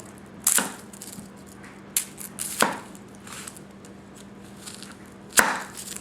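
Goko White #1 240 mm gyuto knife slicing through grilled steak, a few separate crisp cuts and taps on a board, sharp and close, with quiet gaps between them and no talk.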